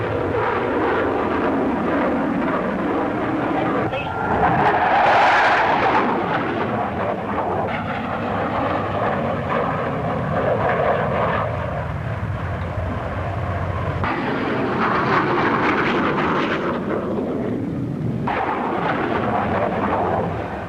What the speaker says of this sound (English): P-1067 is the latest production fighter for the RAF.